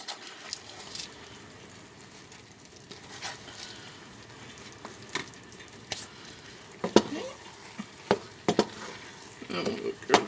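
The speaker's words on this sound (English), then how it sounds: "And we'll give this a stir." A spoon stirs butternut squash and mushroom risotto in a pan with Parmesan, soft scraping under a low sizzle, punctuated by a few sharp clinks of utensil against the pan near the end.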